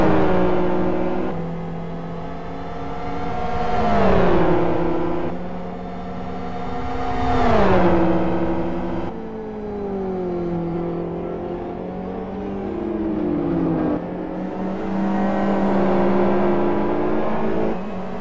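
GT1 race cars roar past on a circuit one after another, engines rising as each approaches and falling away as it passes, with gear changes and long revving tones.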